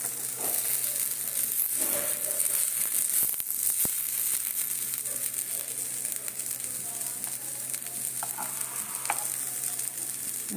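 Bora fritters fry in hot oil with a dense, steady sizzle and crackle throughout, plus occasional soft stirring knocks close by.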